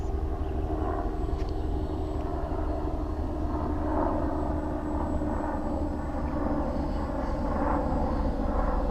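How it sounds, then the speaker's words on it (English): Paramotor engine in flight, surging, a continuous droning propeller roar with slow swells and dips in pitch and loudness, heard steadily without any talk. "Now it looks like it's surging. Let me give it a little more throttle."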